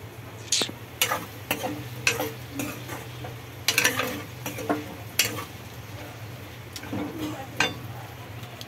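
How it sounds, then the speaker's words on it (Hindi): Potatoes fry slowly in oil over a low flame, with a steady soft sizzle beneath a string of sharp ticks and clinks from stirring against the pan. "हमारे आलू अभी तक फ्राई हो रहे हैं तेल के अंदर एकदम धीमी आंच पे"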